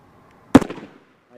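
A Sig Sauer 556R rifle fires a single semi-automatic shot outdoors: one sharp, loud crack with a short decaying echo, alone after near silence.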